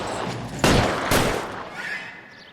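Two loud gunshots from the LA Noire Remastered video game, sharp broadband cracks about half a second apart, followed by a fading echo and low game ambience.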